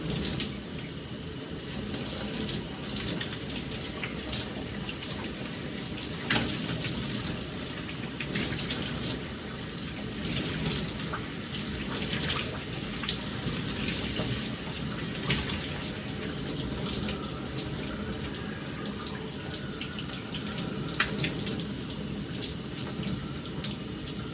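Water runs steadily from a tap while conditioner is scrunched out of curly hair, a constant close rushing and splashing with scattered wet squelches and drips throughout, no speech.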